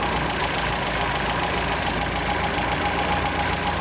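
An MG car engine with HIF carburetors idling steadily during carburetor tuning, a continuous close, loud mechanical drone with a slight knocking texture and no talk.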